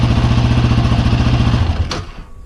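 A 2020 Yamaha Raptor 700R ATV engine runs close and loud with a steady pulsing throb, then cuts off, the sound dropping away over the final half second.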